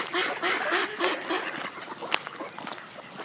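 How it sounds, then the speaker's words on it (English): Ducks in a flooded park meadow at Cedar Hill Park quack continuously in a busy overlapping chorus, moderately close, against steady outdoor background noise. "There's a lot of ducks here today"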